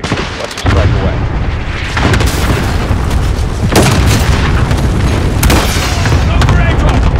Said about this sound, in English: Cluster strike is go for launch.